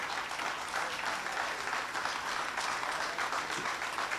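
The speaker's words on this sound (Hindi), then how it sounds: "ये तो तालियां वो हैं जो मांगी नहीं मैंने।" Audience applause at a Hindi poetry recital, a continuous moderate wash of clapping from the crowd lasting the whole stretch.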